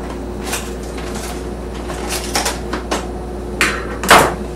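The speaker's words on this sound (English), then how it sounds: "when I want to open up a new box, I always use a knife to open it" A knife slicing open the cardboard of a new cereal box in a kitchen, heard as a run of short scraping and tearing strokes that grow louder toward the end, up close with no talk.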